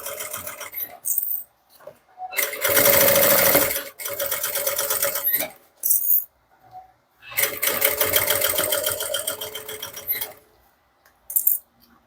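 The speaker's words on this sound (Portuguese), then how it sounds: "vou só fechando aqui agora, fazendo a costura reta" Sewing machine running a straight seam on a handmade bag at 3.5 stitch length, in two long loud bursts of steady motor whirr and needle clatter, separated by short pauses and a few brief clicks of handling.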